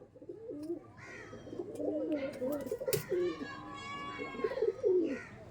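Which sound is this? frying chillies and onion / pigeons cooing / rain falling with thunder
pigeons cooing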